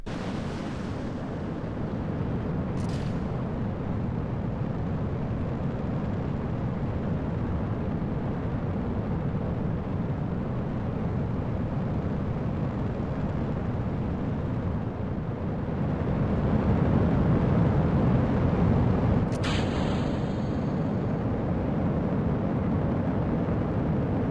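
Atlas Agena Lunar rocket launch in a video game, a steady roaring low rumble held throughout, swelling louder near the end, with a couple of brief sharp clicks standing out.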